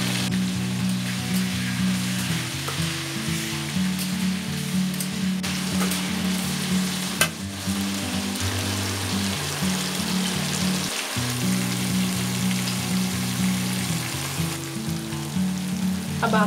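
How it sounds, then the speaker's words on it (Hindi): Cauliflower fries in a pan with turmeric and salt, a soft, even sizzle like light rain running steadily for the whole stretch beneath a sustained low musical tone, with no talking. "यहाँ पे मैंने आधी चम्मच हल्दी, आधे चम्मच नमक डालकर अच्छे से फ्राई करेंगे"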